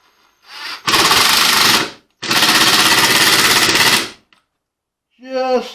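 Power drill driving screws into wood during a garden raised bed build, two long loud bursts of grinding whir close by, each ending abruptly, with brief quiet between.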